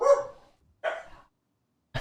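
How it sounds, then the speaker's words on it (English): Dogs bark outside in short separate bursts, three barks spaced apart with silence between, moderately close and clear. "Can you guys hear my dogs?"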